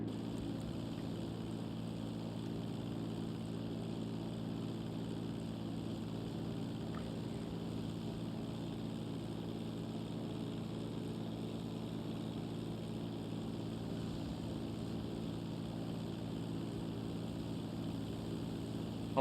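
A propeller airplane in GTA Online drones on in a steady, continuous engine hum that holds level from start to finish, without talking.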